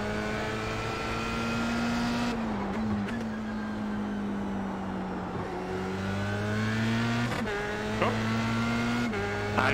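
A Formula 3 race car in the iRacing sim at Imola drones loudly with a buzzy engine note that sits flat against the rev limiter, shifts and drops briefly, then climbs and holds again, with tire noise underneath.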